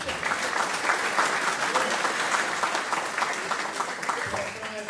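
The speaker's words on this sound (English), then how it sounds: "So let's applaud those opponents." Audience at an award ceremony gives sustained applause, many hands clapping steadily throughout at full volume, with a faint murmur of the crowd underneath.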